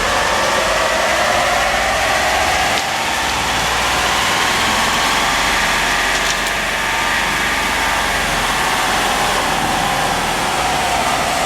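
Ford F150 with a 3.0 Powerstroke diesel engine running a steady, continuous pull on a dynamometer, loud and dense throughout with no talk.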